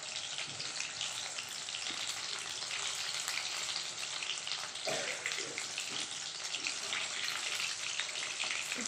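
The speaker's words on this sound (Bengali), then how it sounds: "এটা আস্তে আস্তে করে ভাজা হোক" Topse fish fry slowly in a pan over low heat, giving a steady, even sizzle that runs without a break from start to end.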